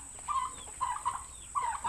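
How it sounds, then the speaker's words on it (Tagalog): Chickens on a small farm give three short, clucking calls spaced across a couple of seconds, fairly faint against a quiet background. "Mga manok."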